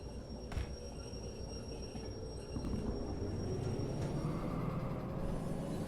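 A shunting locomotive in the train simulator Derail Valley idles and rumbles steadily as it is put into reverse, the low engine drone thickening partway through with rail and wheel noise, close and continuous without talk.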